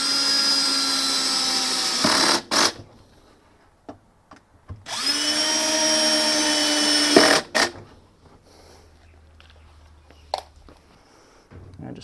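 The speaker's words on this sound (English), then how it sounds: "And we'll just drive them in. It's only into plastic, so don't over torque them." A power drill drives screws into a plastic part of a Fisher and Paykel direct-drive washing machine. Two loud, sustained whirring runs are heard, each ending in a quick trigger stop and followed by short clicks and handling noises.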